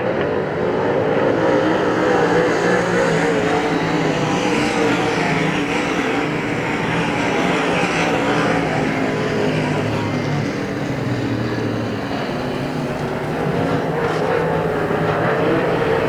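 UMP Modified race cars roar around Hagerstown Speedway during a qualifier, a loud, continuous, dense engine drone that holds steady for the whole stretch without any talk.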